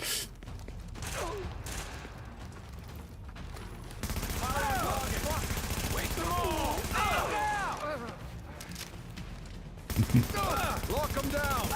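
Gunfire in a shootout in The Division video game: faint, repeated shots and bursts under shouted callouts and game chatter, with a sharper burst of fire near the end.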